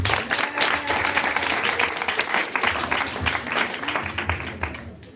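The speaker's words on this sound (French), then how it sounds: "On va acclamer le Seigneur Jésus" A church congregation at a Paris Easter testimony festival applauds to acclaim Jesus, with dense, steady clapping that holds for about five seconds and fades slightly at the close.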